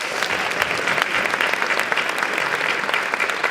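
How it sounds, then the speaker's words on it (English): Audience at a New York Public Library birthday celebration applauds steadily, a dense, even clapping from a full room that continues throughout without talk. "So let's give her first a big hand of applause."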